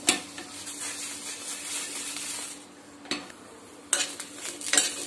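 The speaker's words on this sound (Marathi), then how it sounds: "ह्या आता थोड्या 2 मिनिट भाजून घ्यायच्या आहेत." Green chillies, broken in half by hand, dry-roasting in a pan with no oil for a village-style Nashik thecha, giving faint scraping and stirring with a few clinks, a low steady roast under it and sharper knocks near the end.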